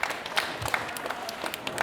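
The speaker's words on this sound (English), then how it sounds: "Guy Henry, big applause, please" An audience breaks into brief, dense applause, a continuous wash of many hands clapping close by, lasting under two seconds.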